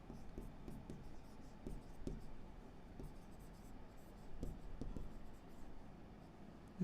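Faint scratchy strokes of writing on a board during a set theory lesson, arriving in short irregular bursts with soft taps and pauses between them, quiet and close.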